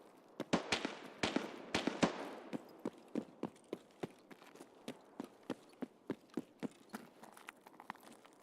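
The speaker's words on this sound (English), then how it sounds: "We definitely had shots over here" Gunfire in Escape From Tarkov, a long string of sharp, distant-sounding shots, first clustered in rapid bursts then continuing as evenly spaced single cracks over a quiet background.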